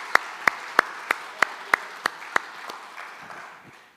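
Rhythmic congregational clapping during a thanksgiving church service, about eight sharp, evenly spaced claps in unison, followed by softer scattered claps fading out.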